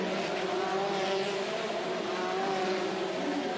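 Formula Renault race cars from 2005 lap a circuit in Salvador, their engines a steady, distant high-pitched whine that drones on without pause.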